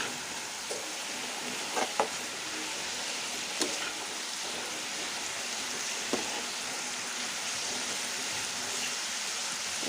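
Bengali vegetable bhaji frying in a pan and stirred, a steady soft sizzle with a few faint scraping taps of the spoon, quiet and close, no voices.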